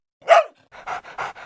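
A dog lets out one sharp bark, then a short run of quick rhythmic panting breaths, close and clear against silence.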